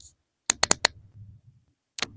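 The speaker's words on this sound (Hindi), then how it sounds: "तो इसे मैं अभी 2 टाइम्स क्लिक करूँगा" Button on a Grenaro 3-in-1 wireless lavalier mic pressed repeatedly, four sharp close clicks in a fast cluster, a soft rumble, then another click after a pause, no talking.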